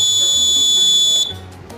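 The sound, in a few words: rain sensor alarm buzzer sounding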